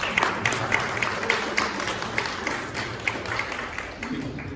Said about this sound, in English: we should clap for our great MC